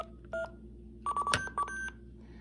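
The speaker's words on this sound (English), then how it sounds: "the tone sounds as long as the buttons are held down" Several DTMF dialing tones from a Hack-Tic Demon Dialer prototype, short and longer beeps of varying length separated by gaps, fairly faint over a low background hum.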